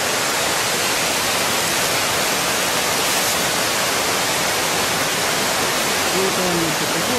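Imose Falls in Hiroshima, Japan, a waterfall giving a steady, dense roar of falling water that holds at an even loudness throughout, with no distinct breaks or separate events.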